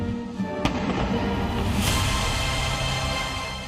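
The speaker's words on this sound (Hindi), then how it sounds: "ट्रंप को जिनपिंग ने अगले दिन 21 तोपों की सलामी और पूरा सम्मान किया" Ceremonial 21-gun cannon salute in Beijing during a state welcome: two sharp booms about a second apart, each trailing off in a long rumbling echo over a background of outdoor ambience.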